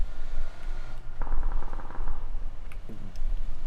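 Gunfire in a video game shooter comes as rapid automatic bursts, a dense, loud rattle that stops and starts over steady game background noise.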